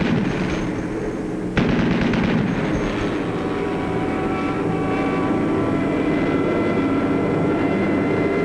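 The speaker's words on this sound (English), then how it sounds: "In desperation, through his own flak, the final Hun fighter makes a pass at the low squadron." A WWII fighter plane makes an attacking pass at a low bomber squadron through flak gunfire: a loud, continuous engine roar with a sharp burst near the start, sustained throughout without speech.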